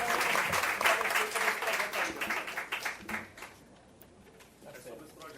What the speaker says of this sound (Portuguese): uma salva de palmas para vocês aí na Fruto de articulação política do Sindicato de PR